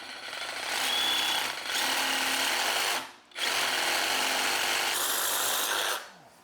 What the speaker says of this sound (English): So I'm gonna bring out the chop saw and start lopping.